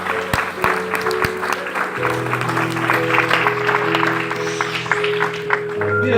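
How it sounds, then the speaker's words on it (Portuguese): Church congregation clapping along during a worship service, steady rhythmic claps with sustained music tones underneath, filling the room at moderate loudness. "Você pode louvá-lo com as suas palmas."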